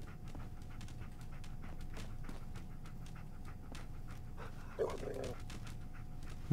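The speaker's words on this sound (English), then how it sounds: "The dog's growling at something" A dog in the video game Fallout 4 pants steadily and rhythmically at close range for several seconds, with a brief whimper-like sound near the end and no speech.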